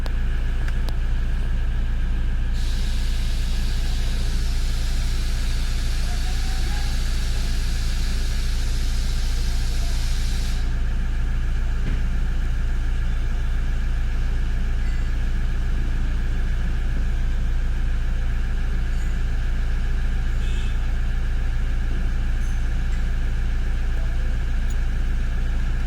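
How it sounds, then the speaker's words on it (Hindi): A Toyota Fortuner diesel engine with a turbocharger actuator fault code P0047 idles steadily, a constant low rumble and hum close by, with a brief hiss partway through and no talking. "अब थोड़ी देर इसको नॉर्मल आइडलिंग पे स्टार्ट रखते हैं 1 मिनट के लिए"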